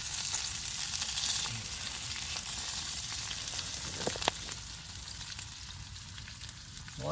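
Bacon sizzles and crackles in a pan, a steady close frying hiss with a few brief pops and a scrape near the middle.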